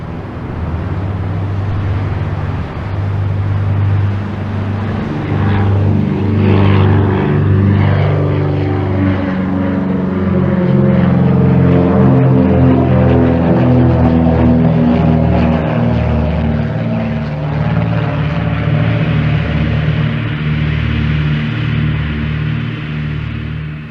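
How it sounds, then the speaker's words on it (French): A small American propeller plane with a five-cylinder radial engine, near Saint-Barthélemy in 1974, drones loudly and steadily throughout, its engine tone shifting slowly with no one talking. "c'est un type américain avec un petit moteur en étoile de 5 cylindres"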